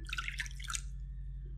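Water pours into a small bowl for a dough recipe, a short bright splashing trickle lasting under a second, close and fairly quiet, then stops over a low background hum.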